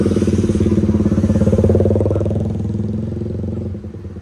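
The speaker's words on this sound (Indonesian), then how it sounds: "Ini sekarang motornya udah bisa, kita coba dulu lewat." A motorcycle engine putters loudly and steadily nearby on a reopened road after flooding, then gradually fades as it moves off.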